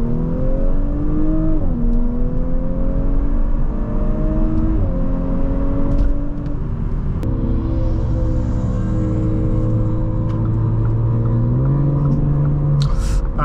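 A 2022 Audi S5 3.0T Sportback under full throttle, engine note climbing steadily and shifting in pitch through several gears, heard from inside the car as a constant loud drone with road noise.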